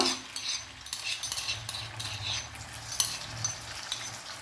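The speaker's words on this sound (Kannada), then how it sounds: "ಇದನ್ನು ಸ್ವಲ್ಪ ಹಸಿ ವಾಸನೆ ಹೋಗೋವರೆಗೆ ನಾವು ಫ್ರೈ ಮಾಡುವ" Crushed ginger, garlic and green chili frying in hot coconut oil for a chicken dry dish, a close steady sizzle broken by the scrape and clink of a spoon stirring in the pan.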